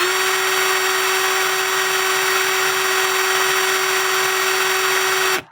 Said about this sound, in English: turn on your drill, rub the stone back and forth